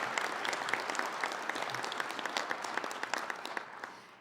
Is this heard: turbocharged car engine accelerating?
no